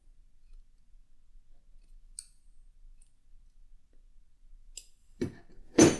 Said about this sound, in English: I like to take my scissors and just kind of cut the skirt that's around